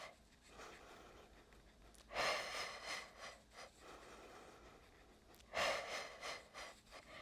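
Deep breaths during a postpartum core workout, two strong, airy exhale-like bursts roughly three seconds apart rising above a quieter, steady breathing background, close to the mic with no talk.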